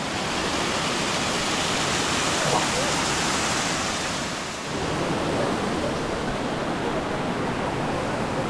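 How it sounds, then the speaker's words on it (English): A small waterfall at Molinuco, Ecuador, pours in a steady, dense rushing roar of falling water that fills the whole scene, close and constant throughout. "So this is La Cascade de las Niñas. So a small cascade."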